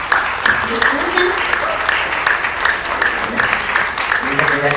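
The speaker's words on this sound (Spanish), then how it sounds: "Ya te dieron un aplauso." A lecture audience at an academic event on Ignacio Ellacuría applauds steadily for several seconds, a dense even patter of hands with voices murmuring and talking over it.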